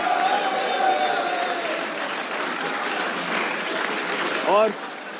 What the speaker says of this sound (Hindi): आला कारकर्दगी पे शादाब के लिए भी तालियां होनी चाहिए।